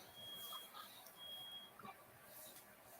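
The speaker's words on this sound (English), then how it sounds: "Somebody's smoke alarm's going off." Somebody's smoke alarm beeps in the background, a few thin, faint high chirps spaced apart over a quiet room hiss.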